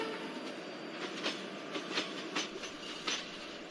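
Simulated train rolling into Kadapa station on the Guntakal–Pakala route, with steady rail rumble and a few evenly spaced wheel clacks over the joints, moderately loud and with no voices.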